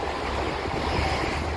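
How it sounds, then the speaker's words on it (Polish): Wind blows in Wellington, New Zealand, a steady broadband rush and buffeting roar at even loudness throughout, with no voices. "Dzisiaj jest akurat fajny dzień, ale i tak troszkę wieje."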